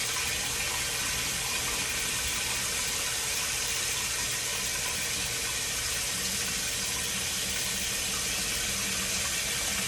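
Water runs steadily from a faucet while hair is rinsed out, a constant close hiss and splash with no break and no one talking.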